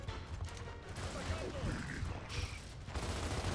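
Machine gun fire in the video game Gears of War, a dense, continuous rattling barrage mixed with clanks and impacts, fairly loud, while voices talk underneath.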